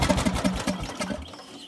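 A riding mower converted into an off-road WWII Jeep replica runs roughly, its small engine putting out an uneven, pulsing chug with a rapid irregular beat that fades slightly toward the end, with no talk over it.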